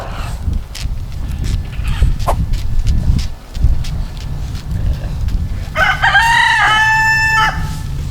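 A rooster crows once near the end, a loud, close cock-a-doodle-doo rising over earlier outdoor rustling and handling noise in a Mississippi backyard garden.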